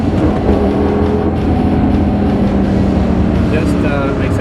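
A 2005 Lamborghini Gallardo V10 engine pulls hard on a test drive, a loud, steady roar with rising drive noise that holds throughout, and a voice speaks over it.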